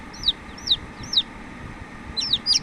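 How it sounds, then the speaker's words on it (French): Newly hatched farm chicks in an incubator, with chicks still inside their eggs, cheeping: bright, rapid, downward-sliding peeps in short clusters, close and clear over a low background hiss. "Alors ça piaille, c'est autant celui qui est sorti que ceux qui sont dans les œufs"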